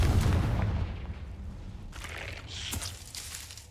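A Confringo blasting spell explodes in the video game Hogwarts Legacy: a loud, rumbling burst that fades, followed by a sharp crackling flare of debris about two seconds later.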